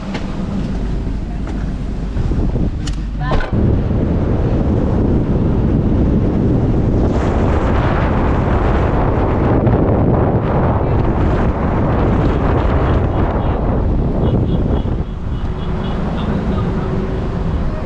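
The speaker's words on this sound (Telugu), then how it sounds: "ఇక్కడ ఫుల్ గాలి వేస్తుంది ఈ నీమ్ ట్రీలో." Strong wind roars steadily into the microphone under a neem tree in a Gujarat village, a loud continuous rumble and buffeting that persists throughout with no pauses.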